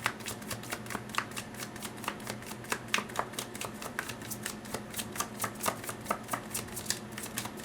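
Tarot cards shuffled before one card is drawn: a close, quiet, steady run of rapid riffling flicks and taps at an even rhythm, with no talk.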